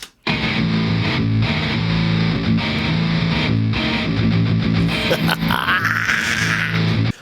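Two distorted electric guitars play together in a thick, loud riff, and a rising squealing lead line enters near the end.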